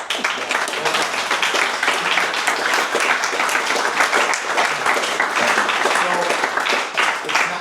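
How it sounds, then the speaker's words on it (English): Audience applause at a book talk fills the room, a dense, steady wash of many hands clapping close and loud throughout. "Round of applause."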